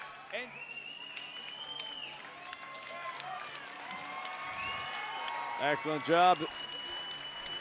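A crowd at a boxing event applauds and cheers after the fight ends, with steady clapping and a few whoops. An announcer talks over the noise, and the cheering swells near the end.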